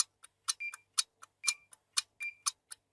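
Clock ticking crisply and evenly at about four ticks per second, with a faint ringing tone after some ticks, close and clear against near silence.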